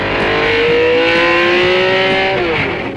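A race car accelerates hard along the Targa Florio road course in Sicily, its engine note climbing steadily through the gears with a loud, continuous roar and a brief dip near the end.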